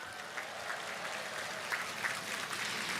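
Crowd at a Korean political campaign rally applauds in encouragement for firefighters, a moderate, continuous patter of clapping with a few louder bursts, no talk over it.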